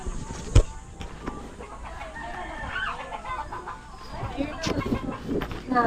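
Chickens cluck and a rooster crows nearby on a farm in Mindoro, Philippines, with outdoor background noise and a person talking intermittently.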